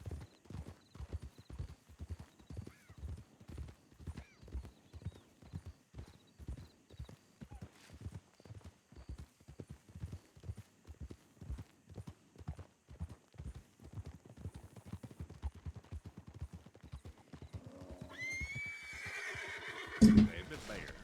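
A horse in the Red Dead roleplay game WildRP clip-clops in a long, even run of hoofbeats, then lets out a loud whinny near the end; faint voices sit underneath.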